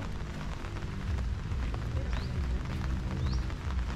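Heavy rain pours steadily in the Philippines as a dense, continuous roar across the whole stretch, with faint background sounds under the downpour and no clear talk.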